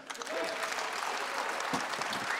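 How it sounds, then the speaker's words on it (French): Conference audience applauding in a dense, continuous burst of clapping that fills the room, with a few faint voices mixed in. "Miguel, on peut l'applaudir et l'encourager."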